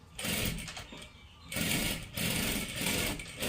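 A sewing machine stitching a salwar runs in two quick bursts of rapid, buzzing needle action separated by a short pause, close and clear with no talk.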